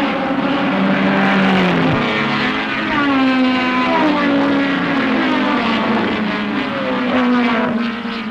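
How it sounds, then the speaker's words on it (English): Saloon cars from 1968 racing, including a Porsche, a Mustang, Minis and a Cortina, with loud engines revving and shifting pitch as they pass close, a continuous roar with no talk. "Immediately into the lead goes Elford in the Porsche, followed by John Ewer's Mustang, and a whole colourful host of Minis"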